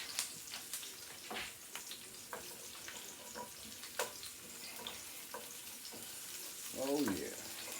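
Onion gravy with leftover pork chop fat simmers softly in a pan, a faint bubbling sizzle with scattered light pops and clinks, and a brief voice-like warble near the end.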